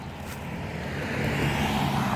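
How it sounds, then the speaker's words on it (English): Street traffic rumbles beside a spring garden, a car passing by and swelling slightly louder toward the end against a steady low roadway hum. "sorry about the traffic and the noise."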